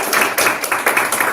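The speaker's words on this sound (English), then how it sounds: "Let's give them another round of applause." A round of applause at a school's morning assembly, with hands clapping in quick uneven bursts that rise and fall over a short stretch.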